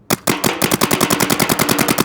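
Rapid automatic gunfire in a shooting video game, a fast steady stream of loud, evenly spaced shots after two opening bursts, continuous and alone.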